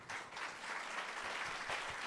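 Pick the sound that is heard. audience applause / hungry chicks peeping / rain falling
audience applause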